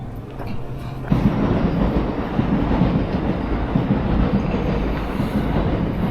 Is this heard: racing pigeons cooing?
no